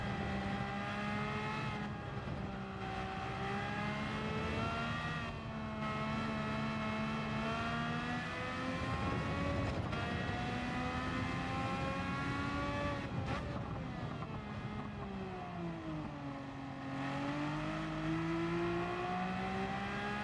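A BMW engine in Need for Speed Rivals revving up and down in long sustained sweeps, steady and fairly loud with no talk over it.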